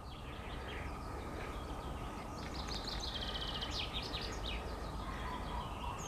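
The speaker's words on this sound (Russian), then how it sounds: "Слышите, как красиво поют птицы?" Birds chirp and trill in short high bursts at a moderate distance over a steady low rumbling background, at a zoo in Tallinn in spring.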